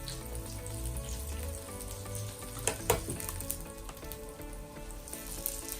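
Vegan fishcakes frying in oil in a pan, a steady close sizzle with a brief louder crackle partway through, no voices.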